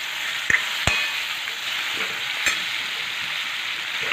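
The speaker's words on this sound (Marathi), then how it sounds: "लगेच जो चिरून धुवून घेतलेला बटाटा आहे ना तो घालून घेणार आहे तो पण छान प्रकारे या तेलामध्ये असा मिक्स करून घेणार आहे" Chopped potato is stirred into hot oil with green chillies, a constant bright sizzle close by, broken by a few sharp knocks of a spoon against the pan.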